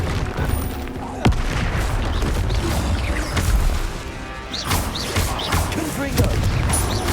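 Bombarda explosion spell in Hogwarts Legacy combat, heavy booms and crashing impacts with a sharp crack near the start and further blasts later, loud and close, amid battle noise and shouted voices.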